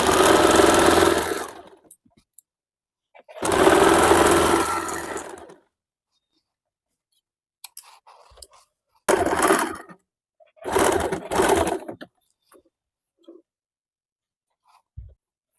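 Several short, loud bursts of a sewing machine stitching piping onto a blouse, separated by quiet pauses, with each run lasting one to two seconds.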